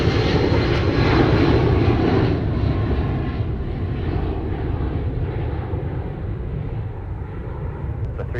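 A Delta airliner departing Minneapolis–Saint Paul airport on a windy day roars loudly and steadily at close range, with the engine noise slowly fading over several seconds and no voices.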